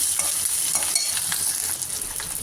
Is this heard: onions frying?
yes